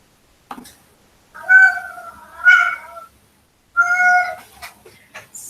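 A pet cat meows insistently indoors, three long nasal cries separated by pauses, close and clear, with faint clicks and bumps around them.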